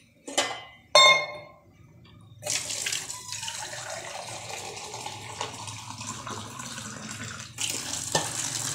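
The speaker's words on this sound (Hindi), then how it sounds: "पानी थोड़ा सा और डाल देते हैं।" Water pours from a tap into a pot of boiling potatoes in a home kitchen, a few clinks first, then a steady close gushing stream that swells again near the end.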